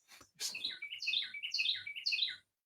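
A bird sings close by indoors or at a window, a bright, loud run of rapid warbling chirps in repeated phrases over about two seconds, heard alone without talk.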